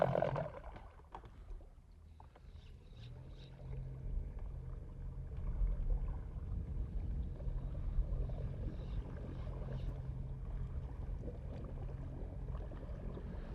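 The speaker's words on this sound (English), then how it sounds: "trolling motor is so noisy" An electric trolling motor on a bass fishing boat in Florida whirs steadily and close by, with a low continuous drone that swells slightly midway and runs throughout without talk.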